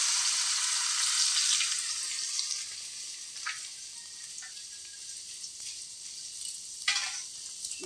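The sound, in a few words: lentils frying for homemade chanachur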